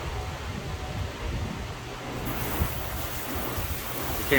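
Water from a hose pours steadily over the coated paint of a car, a soft continuous rushing and splashing heard close up at low level, with no one talking over it.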